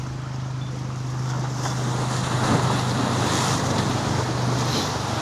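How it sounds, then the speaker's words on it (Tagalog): Strong ocean waves roll onto the shore at Aparri, a steady loud surf roar with wind buffeting the microphone throughout, no talking. "Lakas ng alon dito."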